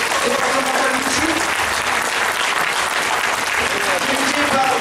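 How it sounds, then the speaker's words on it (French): Thunderous applause at a martial arts gala for the departmental Wushu team: a dense, continuous wall of clapping from a large crowd, steady throughout with murmured voices mixed in. "je voudrais qu'on fasse un tonnerre d'applaudissements pour toute l'équipe départementale du Wushu"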